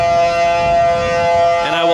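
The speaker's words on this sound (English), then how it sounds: "That is the air raid siren that they used for World War II" On Maui, an old WWII air raid siren used for Pacific tsunami warnings blares a continuous, powerful wail, steady and loud throughout, with a slight wavering toward the end.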